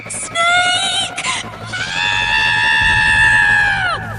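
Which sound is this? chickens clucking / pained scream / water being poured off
pained scream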